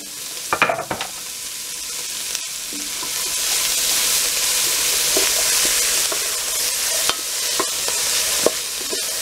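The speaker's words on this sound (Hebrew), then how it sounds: "מערבב היטב שהכל יבוא במגע עם השמן והחום" Vegetables fry in hot oil in a pot and are stirred, giving a continuous close sizzle broken by scraping and clinking from the utensil, with no one talking.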